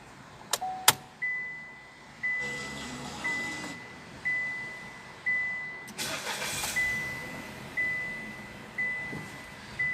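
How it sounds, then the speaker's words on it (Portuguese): A 2020/2021 Chevrolet Onix 1.0 turbo RS automatic starts up with a sharp crank burst, then settles into a steady idle marked by repeated rhythmic swells and a thin, constant whine, fairly close and with no talking. "Vamos dar a partida."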